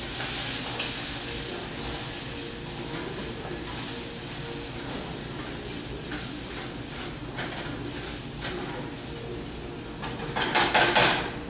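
Flour being stirred into sausage fat in a frying pan for gravy, a soft steady sizzle with scraping stirs throughout, then louder clatter of utensil against the pan near the end.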